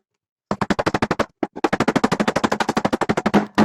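A hammer strikes a coconut to open it in a fast, rapid-fire series of sharp, loud, close knocks, with a brief pause before the blows resume.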